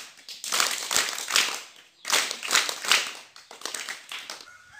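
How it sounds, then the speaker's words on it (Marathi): First-grade students at a school maths-day event clap together in tight, rhythmic bursts. Short group claps repeat in clusters of roughly three, with brief pauses between them, close and fairly loud. "सगळ्या विद्यार्थ्यांनी 3 टाळ्या वाजवायच्या आहेत"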